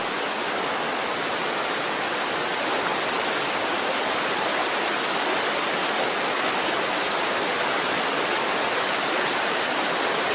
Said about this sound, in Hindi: झरना बह रहा है, सफेद दूध जैसा पानी नीचे गिर रहा है।